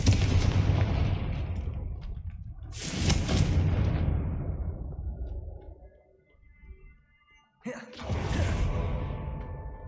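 The Confringo fire spell from Hogwarts Legacy bursts with loud, booming blasts, one early and another near the end, each trailing into a rumbling decay.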